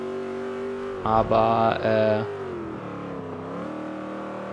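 A modern muscle car engine in Forza Motorsport 5 revs hard in a short, loud burst of two roaring pulses, then settles back to a lower drone while someone talks over it.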